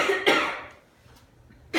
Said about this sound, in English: Now I want you to do a nice strong cough for me like this.